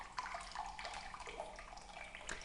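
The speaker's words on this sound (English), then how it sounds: "using a strainer, pour the juice off the top of it" Cabbage juice trickles and splashes as it is poured through a strainer into a glass, a faint, continuous liquid pouring with small drip-like patters, close by and with no talking.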